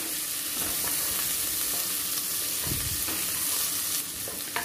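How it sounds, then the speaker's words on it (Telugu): Dried mutton pieces frying in oil for a Rayalaseema-style curry give a steady, loud sizzle that lasts throughout, with a few faint stirring knocks and no voices. "ఈ ముక్కలు ఇలా నూనెలో కాసేపు వేగితే మనకి తినేటప్పుడు కమ్మగా ఉంటాయండి"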